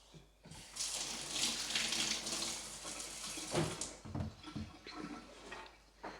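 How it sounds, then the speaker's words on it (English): A kitchen tap runs while hands are washed beneath it, close splashing water with uneven bursts as the hands move through the stream, quieter at the start and end. "Just going to wash my hands for a sec."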